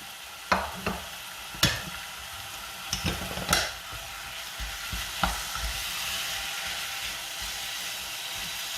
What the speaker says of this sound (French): On vient bien mélanger la viande hachée avec les oignons.